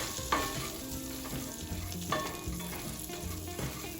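Nuts stirred through butter and sugar in a hot pan, a soft close sizzle with repeated scraping strokes of a spoon, a couple of them sharper.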